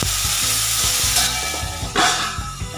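Mustard seeds, cumin and two red chilies sizzle in hot oil for a Kathiyawadi green onion dish, a loud steady crackle with sharp seed pops throughout and a brief burst of hissing near the end.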